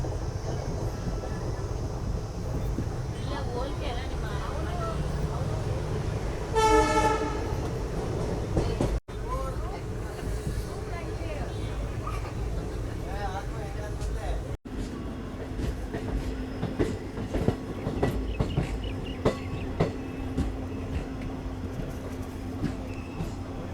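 The Tirupathi to Chamarajanagar express train runs with a steady loud rumble and clatter of wheels throughout, and a brief rising whine partway through.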